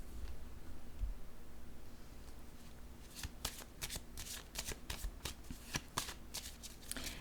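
Playing cards are handled, with quiet rustling at first and then a quick burst of crisp riffling and flicking snaps as the cards are shuffled and laid down, close and with no voices.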